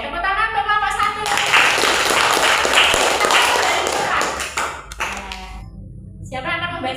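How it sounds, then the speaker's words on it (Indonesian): Classroom students clap for a presenting group, a burst of hand clapping that swells and fades over several seconds, with voices talking before and after it. "tepuk tangan untuk kelompok 1."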